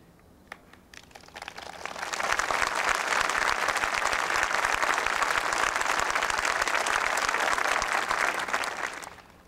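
An audience claps at a 1994 arts and humanities awards ceremony, the dense applause swelling quickly after a few scattered claps, holding steady and loud for several seconds, then tapering off.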